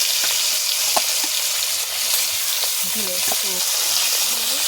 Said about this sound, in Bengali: এরকম করে ভেজে নেবো সবগুলো